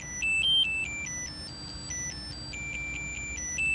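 A SwitchBot wallet card finder beeps in a rapid, repeating electronic melody of alternating high tones, steady and clear against a quiet background.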